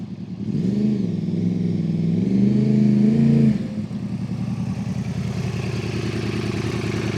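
A Yamaha R1 motorcycle engine at a Mod 1 test centre hums steadily, with its pitch rising and wavering over a few seconds, then drops to a lower, rougher idle.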